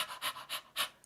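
A person imitates a dog panting, giving four or five quick, breathy huffs in a steady rhythm, close and fairly soft, with no other sound.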